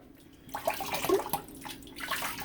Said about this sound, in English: give this a good rinse here